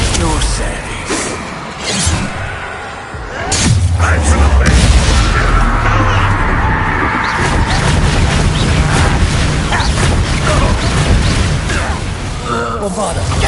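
A Bombarda spell in Hogwarts Legacy, played on PS5, goes off as a heavy booming blast followed by sustained rumbling, crackling debris and layered game sound, loud and close.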